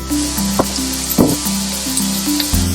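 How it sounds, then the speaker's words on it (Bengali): Jackfruit frying in a pan for a malai echor chingri dish, a loud, steady sizzle with a few brief stirring clacks and knocks over a constant background hum. "তো ইঁচড়টার মধ্যে আমি আবারও যে ভাজছি"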